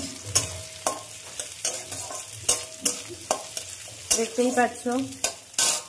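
Chopped onion goes into garlic frying in a pan. Rhythmic spoon scrapes and stirring strokes repeat over a crackling sizzle, and a voice speaks briefly near the end.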